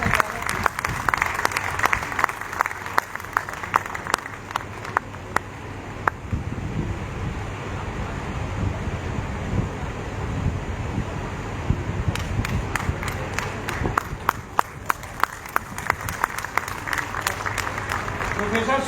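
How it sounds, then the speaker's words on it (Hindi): Applause rises from an audience at a teachers' front dialogue gathering, with clustered clapping in bursts near the start and again toward the end, mixed with wind-like noise and a speaking voice over it. "तालियों की गड़गड़ाहट।"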